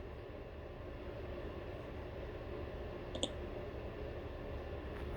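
A single soft mouse click in a software tutorial, landing once near the middle over a steady background of room hum and hiss.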